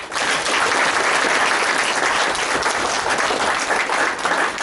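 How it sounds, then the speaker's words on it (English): An audience applauds the organizing committee of a fourth-year intensive class with loud, sustained, even clapping that starts at once and holds steady, with no talk over it. "Give them big claps."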